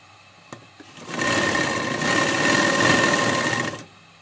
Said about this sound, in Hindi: अब हम इस आस्तीन पर डबल सिलाई करेंगे।